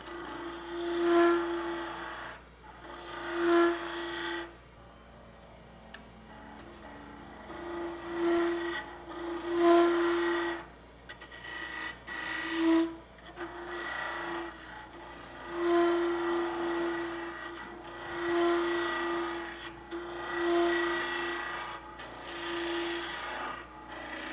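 Lathe gouge cutting wood while hollowing a suction-fit lidded box, a recurring rasping, scraping hiss in repeated passes over the steady hum of the spinning lathe.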